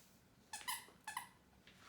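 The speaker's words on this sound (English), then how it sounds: "Don't mind the squeaking of the toys" A dog's squeaky toy sits on a lap, giving two sharp, close squeaks in quick succession, then a fainter third, over a quiet room.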